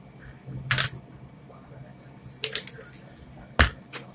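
Cutters snip through vape coil wire, giving three sharp, close clicks spaced over a few seconds against a quiet background.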